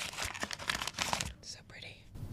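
Crinkling of dessert wrappers from a Dubai chocolate dessert, rustling in close bursts between soft whispered talk.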